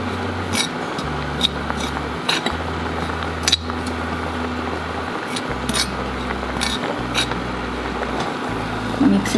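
A spoon stirs a homemade henna hair-colour mixture of boiled dry ingredients in a pot, giving scattered light clinks against the metal over a steady low hum.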